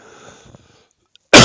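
A man giving a presentation lets out one sudden, loud cough right after a stretch of near silence and faint rustling.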